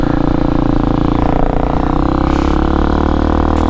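Engine of an X-Pro Hawk DLX 250 motorcycle running rough on bad fuel, a steady close loud drone with uneven, slightly stumbling pulses and no pause for the whole stretch.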